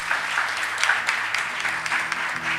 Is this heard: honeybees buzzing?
no